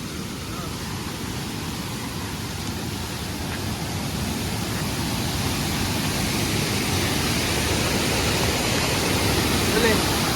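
Waterfall at a hidden falls near Udupi, a constant broad hiss and rush of heavy falling water that grows slightly stronger over time, with faint voices now and then beneath it.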